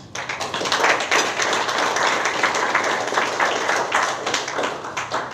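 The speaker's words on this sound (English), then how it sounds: "Give yourselves a round of applause." An audience at a Rotary Club scholarship awards ceremony applauds the scholarship students, a loud, dense burst of hand clapping that holds steady for several seconds and thins slightly at the end.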